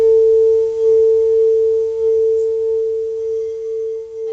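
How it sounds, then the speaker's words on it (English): A crystal singing bowl gives a pure, sustained ringing tone that hums steadily at close range, its loudness gently wavering as it sings on without any voices. "brought out my crystal healing bowl"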